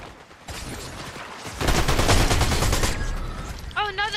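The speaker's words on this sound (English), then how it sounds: "Who's shooting at me?" Fortnite gunfire crackles in rapid, sustained bursts, loud and close, while a voice talks in the background and game tones chime near the end.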